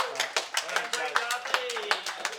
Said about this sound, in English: I think we're just going to give a big, quick round of applause to Chase Coonan.